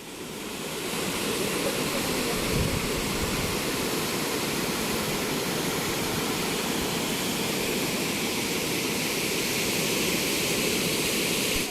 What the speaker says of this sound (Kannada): ಭಾರೀ ಮಳೆಯಿಂದ ಧುಮ್ಮಿಕ್ತಾ ಇರುವ ಅಬ್ಬಿಕಲ್ಲು ಜಲಪಾತ ನೋಡುಗರ ಮನವನ್ನ ಸೆಳೀತಾ ಇದೆ.